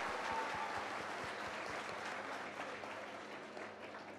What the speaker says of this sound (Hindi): और एक बार तालियां बजाएं।